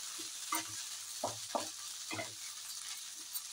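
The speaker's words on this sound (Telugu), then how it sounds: "ఇవి బాగా వేగదాకా వేయించుకోవాలండి." Fenugreek leaves and tomato frying in coconut oil for a roti chutney, a steady sizzle beneath intermittent stirring scrapes in the pan, close and fairly quiet.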